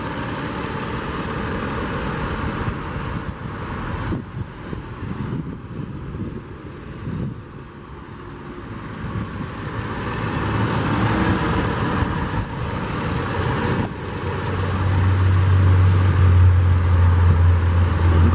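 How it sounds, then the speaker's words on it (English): A 2017 Toyota 4Runner SR5 Premium's 4-liter V6 idles steadily nearby with the hood open, a constant low rumble that swells slightly louder toward the end, with no talk over it. "under the hood, it is equipped with Toyota's 4-liter V6"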